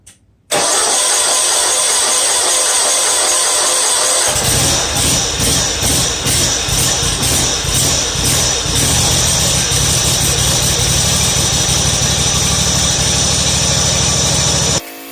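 A Kawasaki-engined riding lawn mower cranks briefly with a stuttering starter, catches and settles into a loud, steady idle that runs on for about ten seconds, close by and alone.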